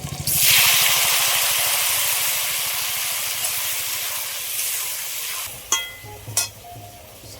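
Tomatoes dropped into a hot pan with lightly fried garlic for tomato pickle, bursting into a loud, steady sizzle that slowly eases, followed by a few clinks and stirring sounds up close.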